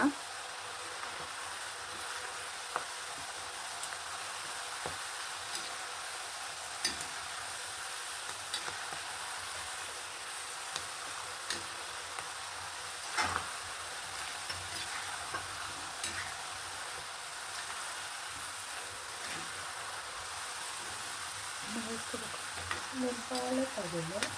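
Avarebele field beans deep-frying in oil as their bubbling gradually settles, making a continuous close hiss and crackle with faint scattered pops over a long stretch.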